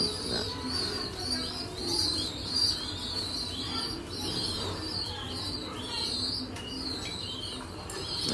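Giribaj pigeons being released, with soft cooing and bursts of flapping wings among chirps, heard continuously at moderate distance in an outdoor setting.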